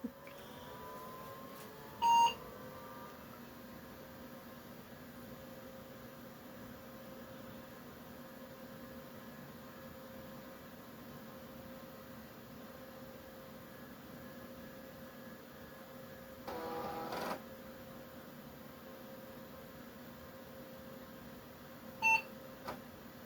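A Hyundai Super-286C computer powers on with a steady low fan and power-supply hum, while short electronic beeps come at the start and near the end and a brief louder burst sounds partway through.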